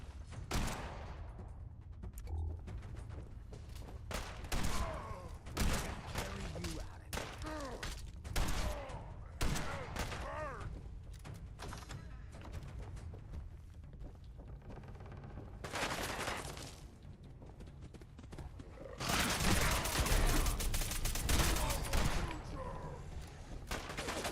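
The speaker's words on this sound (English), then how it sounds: "Gotta love a gun that never runs out of bullets" Continuous gunfire from an endless-ammo gun in Wasteland Warrior, rapid bursts of shots in dense clusters with brief gaps, loud and close, including a heavy sustained burst near the end, with occasional talk.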